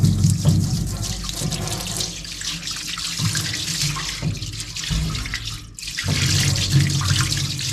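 Liquid is poured steadily into a container being filled for a job, a continuous rushing, splashing flow with small gurgling dips and one brief pause, loud and close throughout.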